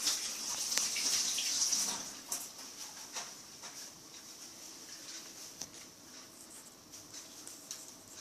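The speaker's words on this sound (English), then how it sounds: "I'm going to add just a tinge more water, just so it covers it a little bit better" Water pours into a pot of rice for Jamaican rice and peas: a brief, fairly loud splashing pour for about two seconds, then faint trickles and small drips in a quiet kitchen.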